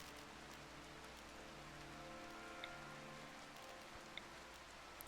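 Rain falls in the colony-building video game RimWorld, a faint, even hiss of steady rainfall continuing throughout with no voices over it.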